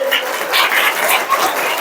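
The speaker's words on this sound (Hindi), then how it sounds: "उनका जोरदार ताली से स्वागत कीजिए" A class of school students claps loudly to welcome a new teacher. The clapping is dense and continuous for the whole short stretch, with a little murmur of voices mixed in.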